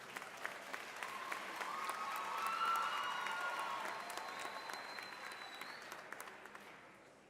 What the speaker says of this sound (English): How about one more round of applause for all of our amazing musical guests.